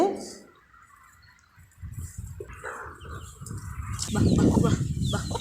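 Chickens and small chicks on a village farm, scattered clucks and soft fowl calls close by, with a dog and birds in the background and someone talking over them.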